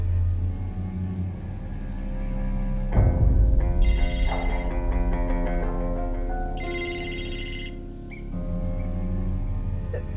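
A mobile phone ringtone rings repeatedly through a melodic tune, with bright bursts recurring over a low rumble of a moving car.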